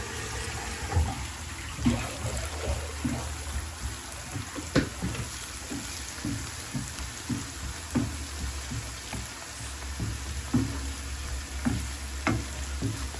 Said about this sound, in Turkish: Şimdi güzelce yıkıyorum pirincini.